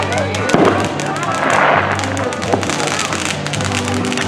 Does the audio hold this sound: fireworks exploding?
yes